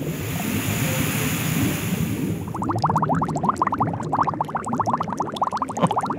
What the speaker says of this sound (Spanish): El reprocesador de agua, Tomasito.